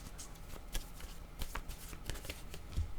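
Tarot cards shuffled by hand in quiet close-up, soft papery riffles and light taps repeating in an irregular rhythm, faint and alone.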